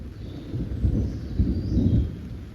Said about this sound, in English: You can hear the thunder rumbling.